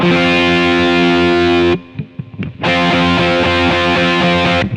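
Loud distorted electric guitar power chords ring out, cut by a brief muted scratchy pause, then another sustained crunchy chord.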